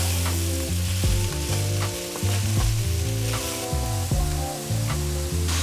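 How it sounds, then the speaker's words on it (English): Peppers and cabbage cook down in a pan for sweet and spicy pork bowls, giving a loud, continuous close sizzle with occasional stirring clicks and a low hum underneath. No voices. "Now we're just gonna let this cook down. We want the peppers to soften. We want the cabbage to wilt down a little bit"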